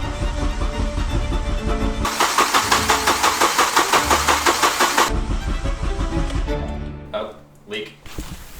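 A turbocharged Acura RSX engine cranks and fires for the first time: a few seconds of rapid, loud starter churning settle into a rough running engine that then fades and stumbles, with people talking nearby.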